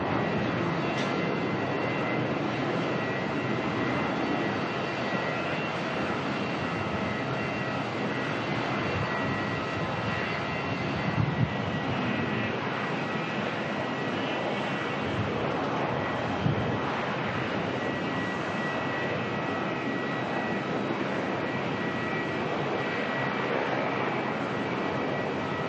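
A Velocity airliner in Toy Story livery at Melbourne Airport gives a steady, broad jet-engine roar that holds at an even level throughout, heard from a moderate distance.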